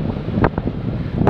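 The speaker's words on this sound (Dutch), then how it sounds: "Het is een bewolkte dag met regen en wind." Wind buffeting a phone microphone outdoors on a cloudy, rainy day, a steady low roar with a few sharper gusts and thumps.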